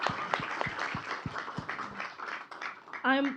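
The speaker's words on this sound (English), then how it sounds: "Give applause to our speakers today." Audience applause for the speakers at a climate journalism session: a crowd claps steadily for a few seconds, moderately loud, while a voice speaks over it and someone cheers near the end.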